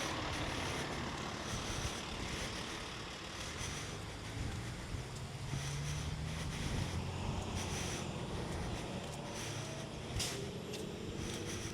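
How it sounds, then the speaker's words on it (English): A loud truck rumbles past outdoors, its heavy, steady roar filling the whole stretch with wind buffeting the microphone and no talk. "just a really loud ass truck"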